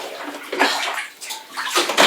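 Water sloshes and gurgles in a bathtub after a ferret's bath, with irregular splashy surges, close and fairly loud, without talk.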